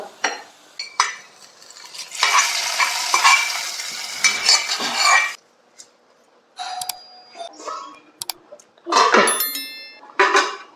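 A tempering for fish curry frying in a pan in a home kitchen, crackling and sizzling loudly for several seconds, then gaps broken by clinking of metal utensils and pots as it is poured in.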